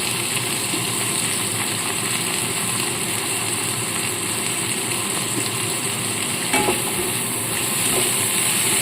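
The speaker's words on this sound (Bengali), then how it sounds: "এবার এখানে আমি দিয়ে দেবো কুচিয়ে রাখা পেঁয়াজ কুচিয়ে রাখা পেঁয়াজ আর টমেটোটা আমি একসাথে দিয়ে দিচ্ছি" Chopped onion and tomato fry together in a hot pan, giving off a dense, steady sizzle that stays loud and close for the whole stretch. A brief stir or scrape breaks through near the end, and nobody speaks.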